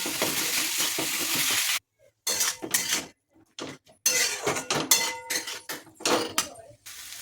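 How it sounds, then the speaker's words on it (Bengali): Chicken momo filling stirred in a pan with soy sauce, tomato sauce, salt and turmeric: bursts of scraping and clinking against the pan, broken by short silent gaps, close and fairly loud. "পরিমাণ মতো নুন, হলুদ দিয়ে ভালো করে এটা করে নেবো পুরটা"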